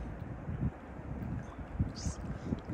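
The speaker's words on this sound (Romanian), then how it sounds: "Începe să bată un pic vântul," Low, rumbling wind buffeting the microphone in uneven gusts on the bank of the Olt river, with faint background noise and no clear speech.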